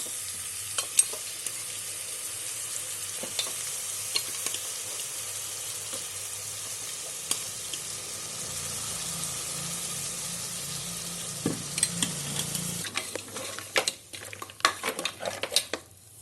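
Goat trotters coated in spices sauté in a pan with a continuous close sizzle, followed late by a burst of clattering, scraping stirring strokes against the pan; nobody speaks.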